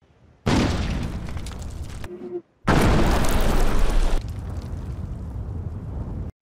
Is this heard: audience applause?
no